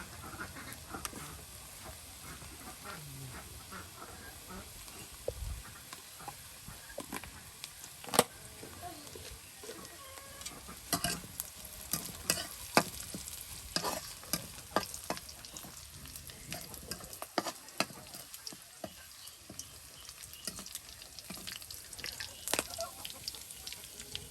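Cumin frying in a pan while being stirred, a faint low sizzle under frequent scrapes and taps of the spoon against the pan, with no speech.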